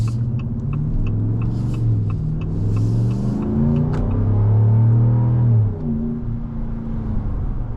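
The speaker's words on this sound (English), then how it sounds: "Really great sounds coming out of this truck." A 2026 Ram 1500 Laramie with a HEMI V8 rumbles deeply as it accelerates, its low engine note swelling and rising steadily, heard close with no talking.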